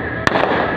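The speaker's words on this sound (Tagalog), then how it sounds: "ligaw na ano, mga maraming putok kasi." A single firework burst cracks sharply against a steady background rumble during a New Year display welcoming 2021, with more distant pops following faintly.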